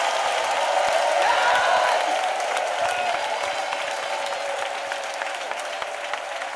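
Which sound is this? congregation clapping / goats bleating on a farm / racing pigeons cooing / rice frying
congregation clapping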